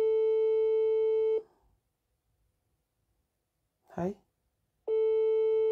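Busy signal of an unanswered phone call, a steady electronic tone that cuts off, leaves a silent gap where a voice briefly speaks, then resumes.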